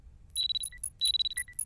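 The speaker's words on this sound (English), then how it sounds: "What the fuck is the beeping?" Electronic beeping in the horror game Parasocial comes as rapid clusters of high, thin pulses in quick bursts with short gaps between them, clear against a near-silent background.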